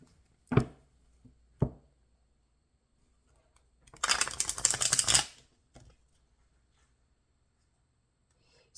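Tarot cards tossed back into a deck: two sharp isolated taps, then a dense burst of riffling shuffles lasting about a second, followed by quiet with a final soft knock.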